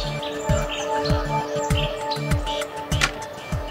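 Cartoon young birds chirping and tweeting in repeated short calls, bright and close, over a rhythmic thumping music bed with a steady tone underneath.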